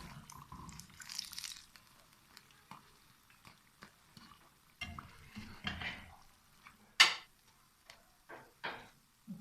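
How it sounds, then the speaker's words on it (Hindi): Green chili pakoras frying in a pan, quiet sizzling with scattered clinks and scrapes of a spoon stirring and lifting them, one sharp metallic clatter midway. "एक दो मिनट हो गए हैं इसको फ्राई होते हुए, तो अब हम इसको निकाल लेते हैं।"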